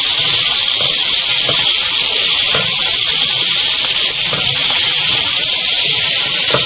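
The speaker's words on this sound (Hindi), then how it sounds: "यहाँ पे हमें इसको लहसुन के साथ जब तक फ्राई करना है जब तक हमारा लहसुन बिल्कुल सुनहरा ना हो जाए।" Chicken frying with chopped garlic and ginger in a karhai: a steady, loud, close hiss of sizzling oil that continues without a break, with faint occasional stirring knocks beneath it.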